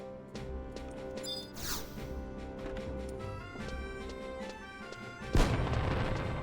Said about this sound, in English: the firework actually kind of startled me a little bit because I wasn't expecting just an explosion sound from nowhere